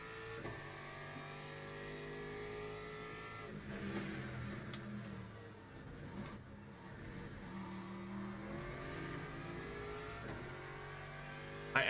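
A race car engine in Le Mans Ultimate, played in VR, drones and revs steadily, shifting pitch as it accelerates, continuous and fairly quiet with brief clicks partway through.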